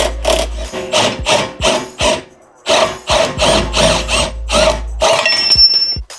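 A power tool undoing a 15mm control arm bolt on a Ford Focus Mk1, loud and close, in a quick run of short rattling bursts with a brief pause partway and no talking.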